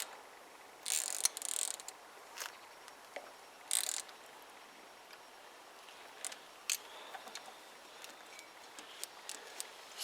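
Ratchet clicking in short bursts while tightening a bolt on a Kawasaki BN125 Eliminator brake bracket, close and fairly quiet with pauses between strokes.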